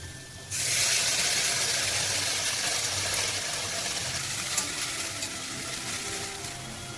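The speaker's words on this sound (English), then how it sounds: "We will turn down the heat now and add the ground masala." Ground masala spices hit hot oil in a pan with a sudden loud sizzle that holds steady as a continuous frying hiss, with faint stirring and small crackles underneath.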